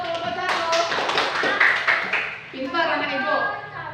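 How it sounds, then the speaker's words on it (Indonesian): Children in a classroom clap their hands for a group, a bright burst of uneven, overlapping claps with voices speaking over and after it. "Kasih tepuk tangan untuk kelompok 1."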